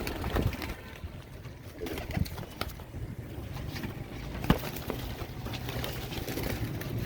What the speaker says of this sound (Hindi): ये कबूतरों का समंदर, कबूतरों का समंदर